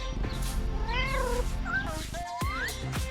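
Kittens mew repeatedly in short, high, wavering cries that overlap one another at close range, with no talking.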